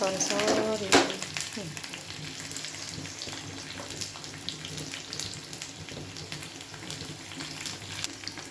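Onion, green chilli and curry leaves frying in hot oil for palak chutney, a steady close sizzle throughout with a sharp clink near the start and a brief voice at the beginning.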